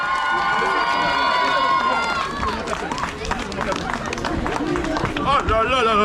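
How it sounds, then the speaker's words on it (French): An audience at an African week celebration in Viry-Châtillon claps and cheers loudly and without a break, a dense wash of hands with high shouts and whoops rising over it. "On peut les applaudir très fort encore, s'il vous plaît."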